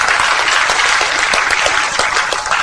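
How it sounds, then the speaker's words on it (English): A conference audience breaks into loud, dense applause close by, sustained clapping with no pause throughout. "give a round of applause to Congressman Flood's team"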